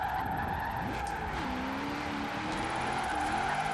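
An engine revving hard and holding high revs in fifth gear, from a drift car in Forza Horizon 4, with its pitch shifting as the gear is held long. It is loud and continuous, with a rising and falling whine over a steady roar.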